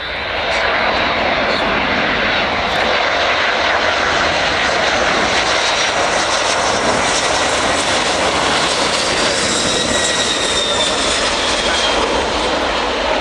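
Jet aircraft on a landing approach at an air show, its engines giving a broad, steady roar that stays loud and constant as it descends, with throttle adjustments controlling the rate of descent.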